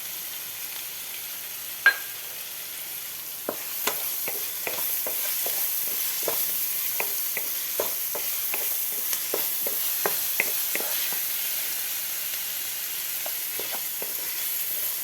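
Leftover rice fries in a pan with ginger paste, turmeric and salt, giving a steady soft sizzle throughout, with frequent light spatula taps and scrapes scattered across it, close by and with no talking.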